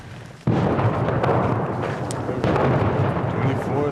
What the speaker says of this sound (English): Even as the bombs start falling.